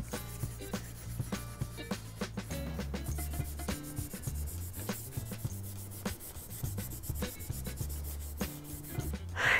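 A wet sponge scrubs an enameled cast iron skillet in quick back-and-forth strokes, a close, rhythmic rubbing with brief squeaky tones between pushes.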